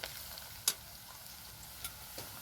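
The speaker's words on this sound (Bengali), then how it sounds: "পেঁয়াজটাকে আমি নাড়াচাড়া করে লাল করে ভেজে নেব।" Onions frying in a pan for chicken malai curry, a quiet continuous sizzle with a few brief clicks of a spoon on the pan, near and soft, no voices.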